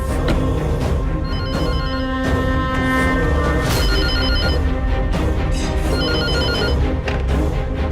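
A telephone rings in repeated electronic bursts, loud and steady with no talk over it, heard indoors in a domestic television drama scene.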